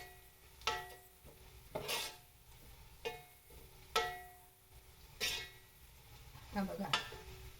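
Garlic fries in oil for kurmura chivda while a spoon stirs the pan in regular strokes about once a second, soft scraping swishes over a faint sizzle, fairly quiet.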